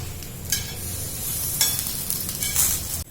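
Brinjal pieces fry in a pan while being stirred, a soft steady sizzle with three short scraping stirs spaced about a second apart, close and alone.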